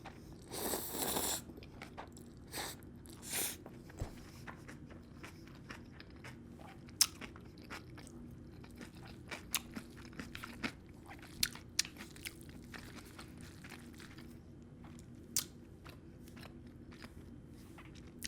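Quiet mouth sounds of someone eating kimchi somen noodles during a mukbang, with soft bites and a few louder crunchy chews early on, then faint intermittent chewing clicks for the rest.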